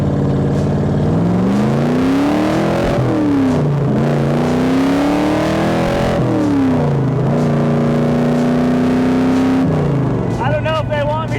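A Cobra sports car's engine revs up and down in repeated rising and falling pulls while driving, loud and close throughout, with a voice talking over it.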